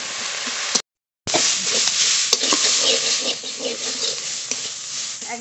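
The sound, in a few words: frying and stirring spiced fish in a pan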